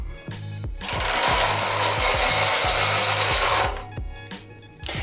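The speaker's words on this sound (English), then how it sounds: "we're ready to ratchet it up" Ratchet hangers lift a grow light inside a BudBox grow tent, giving off a fast run of mechanical clicks with a loud rasping burst in the middle and a few separate clicks after it.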